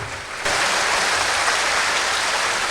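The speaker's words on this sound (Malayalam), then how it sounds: "കൈ ഉയർത്തി ശക്തിയോടെ കൈയടിച്ച്" A church congregation clapping hands forcefully during Malayalam Christian worship: dense, continuous applause that swells abruptly after a quieter start, with no distinct voices.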